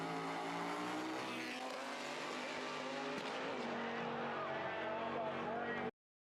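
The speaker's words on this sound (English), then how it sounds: "Speedy like my car when I power shift into 6th gear and break my transmission for the 5th time." A car engine revs hard through a power shift into sixth gear, with high racing tones, a brief crunching jolt midway, then continued loud revving that cuts off abruptly.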